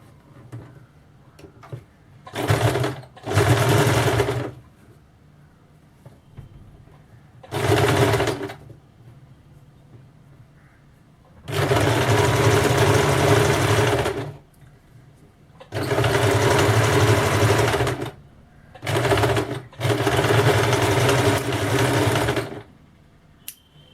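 Electric sewing machine stitching along the edge of blouse cloth in several bursts, some short and some a few seconds long, with a loud whirring drone and quiet pauses between runs.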